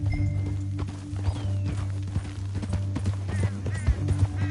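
Horse hooves clopping at a walk in the Red Dead Redemption 2 video game, a steady soft clip-clop over a low droning game background, with a faint voice in places.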